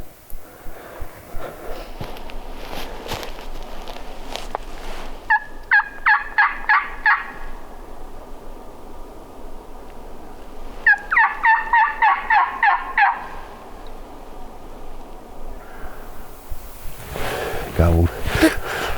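Wild turkey gobbling on public land in South Dakota, several rattling gobble bursts at moderate distance spread over the stretch, amid outdoor rustling, footsteps and breathing, with a voice briefly near the end.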